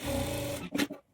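A sewing machine runs steadily for about half a second while stitching a folded half-inch hem at the waist of a blouse, then stops with a few short rustling bursts as the fabric is handled.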